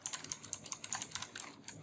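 Quick, irregular key clicks from typing on a computer keyboard, close and fairly quiet, with no voices.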